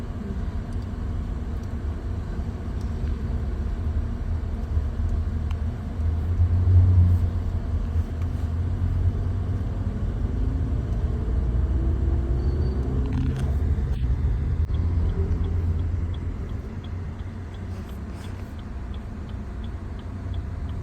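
A Maruti Suzuki Baleno automatic rolling along a road during a driving lesson, steady low engine and road rumble heard from inside the cabin, with a short swell of revving and a few faint ticks.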